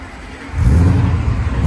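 A 2011 Ford Mustang GT with the 5.0 Coyote V8, true dual exhaust and long-tube headers revs, shifting from a quiet idle to a loud, deep, sustained rumble partway through.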